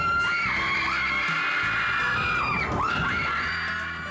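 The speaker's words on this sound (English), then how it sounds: "But it doesn't move enough to elicit these kind of screams" Crowd of riders screaming and shrieking on a moving amusement ride, loud, sustained overlapping yells with rising and falling wails and a few bangs from the ride, no talking.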